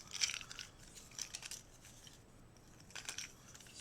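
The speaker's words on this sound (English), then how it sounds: "shuffle them up a bit and then just sort of drop them out" Cardboard end-of-round goal tiles from the Wingspan board game being shuffled by hand, faint scraping and clicking bursts in short clusters with quiet gaps between, close up and without speech.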